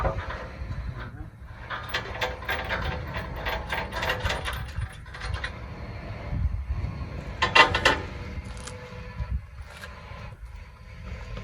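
Bolts with washers and nuts are fitted and tightened on an 800 kg steel lifting platform, giving steady metallic clicking and ratcheting close by, with a brief sharper clatter near the middle and a low background hum.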